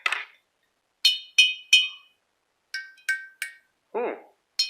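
Glasses partly filled with water are struck with a stick, giving a series of short bright clinks with ringing tones at different pitches, close and fairly loud with brief silences between strikes.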